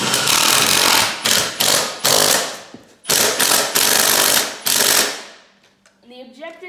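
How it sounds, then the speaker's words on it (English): An impact wrench drives a lug onto a hay wagon tire outdoors, loud rattling hammer bursts in several long runs with brief gaps, then trailing off as a voice begins talking near the end. "the objective is to go until the socket stops spinning"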